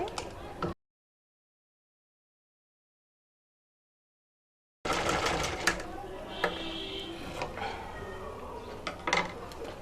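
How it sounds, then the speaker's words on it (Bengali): A sewing machine stitching a blouse, running in a fast, steady mechanical whir with needle clatter after a stretch of silence, close by under occasional speech. "আমি এখানে মেশিনের মাধ্যমে এখন সেলাইটা করে নিচ্ছি"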